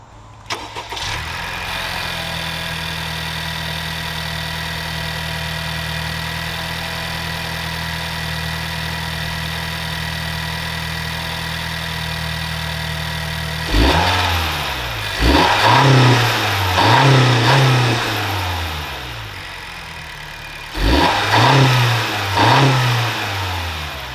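A stock 10th-generation Honda Civic Sport hatchback's 1.5L turbo engine with its factory airbox settles into a loud, steady idle, then blips through several sharp revs, two clusters of rising and falling throttle pulls near the end.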